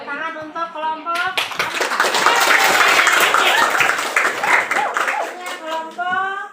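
A classroom bursts into applause for a student group: dense clapping from many hands swells and holds for several seconds, with a teacher's voice speaking just before and after.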